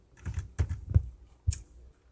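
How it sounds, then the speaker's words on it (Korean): Keys pressed on a computer keyboard while typing in a spreadsheet, a short burst of close, dull taps in an uneven rhythm followed by one sharper click after a brief pause, no talking. "키보드에 있는 한자 키보드를 눌러 주시면 돼요"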